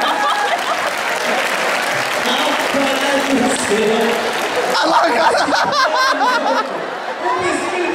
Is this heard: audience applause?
yes